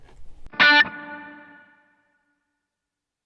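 A single electric guitar chord through an amp capture with reverb on an M-Vave MK300, a sharp bright strum that rings out and decays smoothly over about a second into silence.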